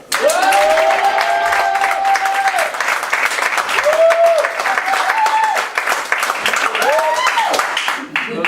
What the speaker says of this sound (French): je vous demande d'accueillir sous vos applaudissements Théo.